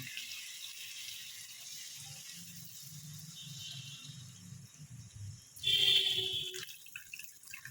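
Water poured into a simmering curry of aubergine, potato and tangra fish, heard as a soft steady bubbling trickle that swells into a louder splashing pour near the end, with no talking.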